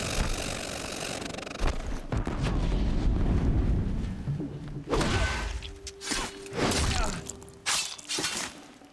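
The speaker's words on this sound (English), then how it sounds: "Another explosion." In the Horizon Zero Dawn video game, a loud explosion erupts in a fight with machines. A heavy rumbling blast is followed by crashing debris and further sharp bursts.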